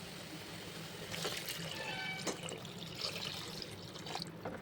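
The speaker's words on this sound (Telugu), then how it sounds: "ఇందులో మనము వాటర్ యాడ్ చేసుకుందాం" Water pours steadily into a pot of chicken soup for several seconds, a continuous splashing rush with brief louder surges.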